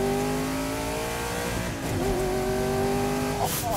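An Audi R8 twin-turbo widebody accelerates hard, its engine note climbing loudly and steadily up close, with a brief tire chirp near the end.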